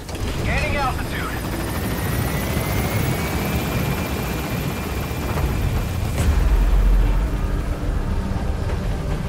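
In Metal Gear Solid 5, an extraction helicopter lifts off, its loud, steady rotor thrum and engine roar filling the scene with a deeper surge near the end, while in-game voices speak over it.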